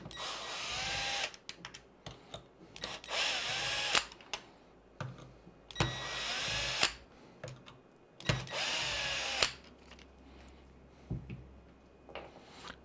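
A power drill backs screws out of the rear differential on a Traxxas X-Maxx RC truck, several loud close whirring bursts separated by pauses and small clicks of parts being handled.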